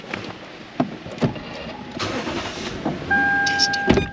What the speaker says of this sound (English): Detected the vehicle has started.